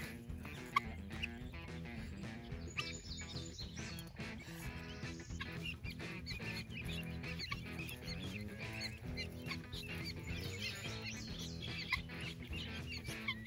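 Unhappy guinea fowl calling again and again in the background, its harsh repeated clucking cries carrying over busy rustling and chatter from a flock near a broody hen and newly hatched keets.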